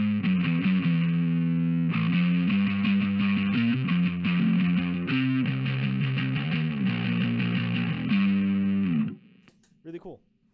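Electric guitar played through an Electro Harmonix Green Russian Big Muff fuzz pedal, thick sustained distorted chords and riffs ringing steadily for about nine seconds, then cutting off with a few brief handling noises at the end.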